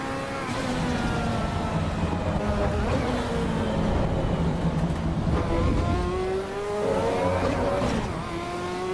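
The Ferrari F40 engine in Assetto Corsa EVO at Imola roars loudly and continuously under heavy throttle, its pitch rising through the revs, dipping briefly at a shift, then climbing again.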